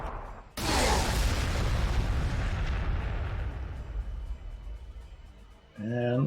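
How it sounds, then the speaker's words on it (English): Frag grenades exploding in Warhammer 40,000: Sanctus Reach, one sudden loud blast that rolls into a long rumbling decay, followed by someone speaking at the end. "So throw some frag back there."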